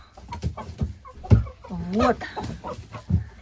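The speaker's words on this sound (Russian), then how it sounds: "Вот курочка, которая несет вот такое яйцо." A hen clucks nearby in a series of short, throaty calls, with one rising, drawn-out cackle in the middle, in winter.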